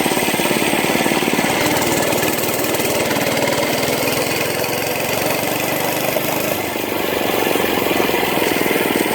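A mini bike's small engine runs with a rough, buzzing, slightly irregular drone and a weird noise, loud and close throughout, with no talking.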